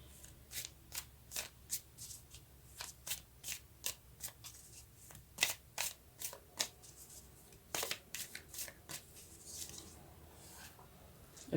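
Tarot cards being shuffled and drawn, a steady run of crisp riffling snaps and soft slides repeating close by in quick bursts, with no voices.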